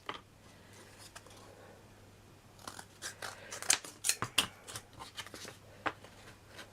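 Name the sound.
trimming a craft piece with scissors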